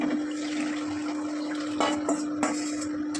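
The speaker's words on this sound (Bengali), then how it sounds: "এবারে আমি এর মধ্যে ডালটা সম্বার দিয়ে দিচ্ছি।" Dal poured into hot oil tempered with ginger, a continuous watery sizzle and splashing with a few brief clanks of a pot or utensil.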